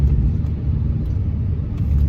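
Modified R53 Mini Cooper S held in first gear, a close, deep engine rumble with a steady throb and no voices.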